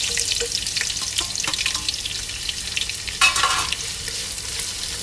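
Onions fry in a pot of hot oil with a bright steady sizzle, and the spatula scrapes and stirs now and then. A louder hiss bursts up briefly near the end.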